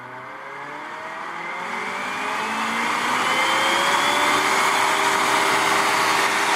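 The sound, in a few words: server cooling fans running loud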